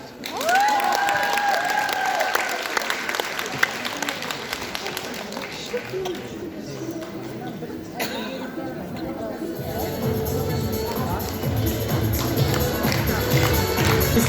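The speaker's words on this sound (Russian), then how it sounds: "А у нас бурные аплодисменты всех дорогих гостей, которые присутствуют в этом сегодняшнем зале." Guests in a hall break into enthusiastic applause at a ceremony, many hands clapping in a dense wash while music and a voice sound over it early on, the crowd noise swelling toward the end.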